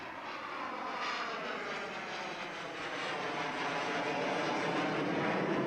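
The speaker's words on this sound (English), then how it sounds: "This is an F-5, demonstrating its ability to use a very secondary type runway." An F-5 fighter jet lands on a rough, very secondary runway, its engine roar steady and broad, a continuous loud jet rush building slightly toward the end.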